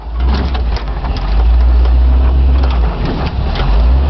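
A 1975 Ford Bronco with a 351W V8 and NP435 manual transmission drives around a parking lot, its engine a loud, steady low rumble with slight rises and dips in revs.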